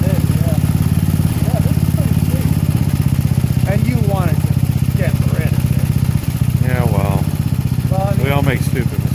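A 1970 Sears Suburban garden tractor engine runs steadily at close range with a constant putter, while people talk over it throughout.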